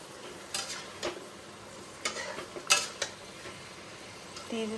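Chicken for korma is fried and stirred in hot oil over a high flame, with a steady low sizzle beneath scattered scraping and clinking taps of a utensil against the pan, close up and without speech.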